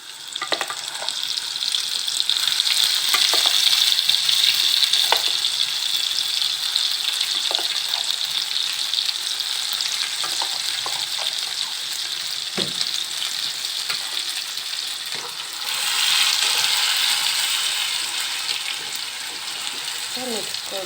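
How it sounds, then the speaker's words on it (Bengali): Ground spice paste from a mixer hits fried onions in a hot pan while masala bhindi is cooked, giving a steady close sizzle with scrapes of stirring, loudest at the start and swelling again near the end. "পেঁয়াজটা হয়ে গেছে, এবার আমি মিক্সিতে পেস্ট করা মশলাটা দিয়ে দেবো।"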